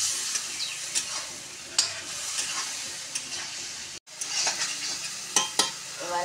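Chopped figs being dry-fried and stirred in a pan: a steady close sizzle broken by repeated scrapes and clicks of a spoon against the pan, with one brief pause partway through.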